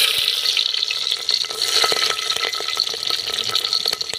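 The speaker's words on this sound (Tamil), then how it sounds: "இப்போ நம்ம பூண்டு போட போகிறோம்." Garlic and mustard seeds fry in hot oil for a fish curry, giving a loud, continuous crackling sizzle with dense popping and stirring, close up and with no talk.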